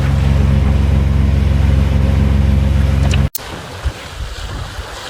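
A sailboat making about five knots against the tide while towing a dinghy produces a loud, constant rush of water and wind over a low hum, which cuts off abruptly and gives way to a quieter wash of water.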